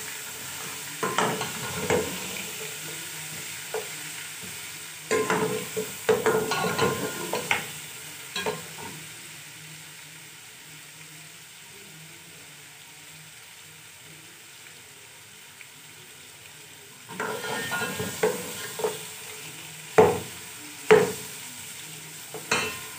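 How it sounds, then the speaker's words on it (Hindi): Meat fries with whole garam masala for aloo gosht, a low steady sizzle broken by bursts of spoon scraping and stirring against the pot, close and without any voices. "और साथ में डाल रहे हैं हम साबुत गरम मसाला। और इसको इसमें भी बहुत अच्छी तरह से हम भून लेंगे।"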